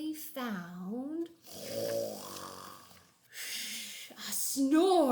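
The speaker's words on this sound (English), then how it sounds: "One lost kitten in the hay, snoring all his cares away." A small kitten snores while curled up in hay in a barn loft, with drowsy, rhythmic breaths alongside voiced sounds and pauses, fairly quiet overall.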